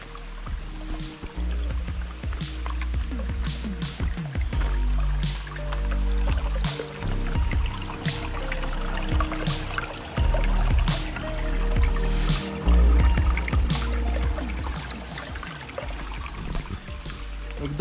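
Natural spring water running at a forest wildlife sanctuary, a close continuous trickle and splash with irregular drips and gurgles throughout.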